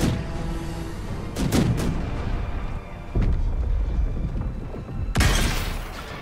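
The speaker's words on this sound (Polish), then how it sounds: "Kolejny wystrzał." Gunfire in the video game Baldur's Gate 3, three heavy booming shots spaced a couple of seconds apart that ring out over a dense, rumbling battle backdrop.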